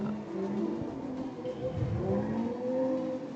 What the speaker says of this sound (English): Great throttle modulation by Crew there in the lead. You can hear him dancing on the pedals.